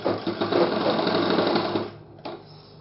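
Sewing machine stitching a cuff onto a shirt sleeve, a close, steady whirring run for nearly two seconds that then slows and stops, followed by a brief click.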